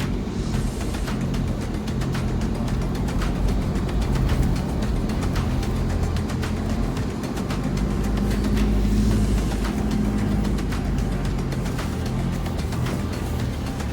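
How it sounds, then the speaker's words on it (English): A truck rolls past on a sandy track on K'gari (Fraser Island), its engine rumble heard from inside a vehicle over steady road and engine noise, swelling twice as it passes, with no speech. "Truck go past."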